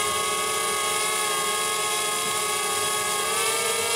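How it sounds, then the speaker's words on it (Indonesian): A DJI Spark drone's small propellers whine steadily and loudly as it takes off and climbs, a continuous buzzing drone tone with many layered harmonics and no voices. "Oke, drone langsung naik."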